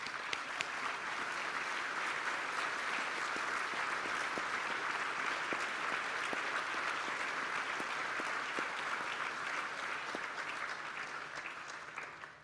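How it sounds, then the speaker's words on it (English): Sustained audience applause fills a large hall at Western Australia's State of the State event, honouring the state's Chief Health Officer; a dense, steady wash of many hands clapping continues at even loudness, tapering slightly at the very end. "Round of applause for this gentleman."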